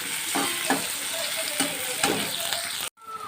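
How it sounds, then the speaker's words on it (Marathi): Roasted chana dal and peanuts sizzle in hot oil with green chillies for upma, a loud steady frying hiss close by with repeated stirring scrapes, cutting off abruptly near the end. "हे डाळे शेंगदाणे टाकून देऊ ह्याच्यात आपण याला एक चांगलं परतून घेऊया दोन तीन मिनटं"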